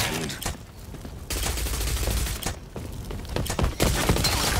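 Rapid gunfire from a Rogue Company match in 2v2 mode, dense bursts of shots and fusillades running almost continuously at close range, loud and sustained with brief gaps between volleys.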